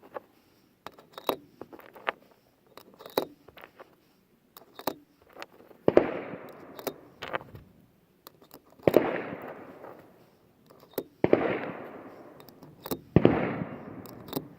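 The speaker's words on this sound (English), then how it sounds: "So let's load up some Quiets. CCI Quiet." CCI Quiet rimfire rounds fired from a semi-automatic parts gun, heard as a string of close, sharp cracks at uneven intervals, some leaving a brief ringing decay, with small clicks and handling noises in between.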